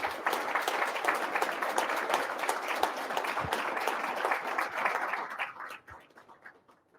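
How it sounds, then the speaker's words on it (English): Sustained audience applause for a guest at an Army association coffee series event, a dense steady patter of many hands that fades out over the last second or two. "please join me in a round of applause for our guest today."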